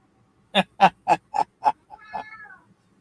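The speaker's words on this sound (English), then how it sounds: "I gotta let this cat out." A pet cat lets out five short, evenly spaced meows close to the microphone, followed by a longer, drawn-out wavering meow.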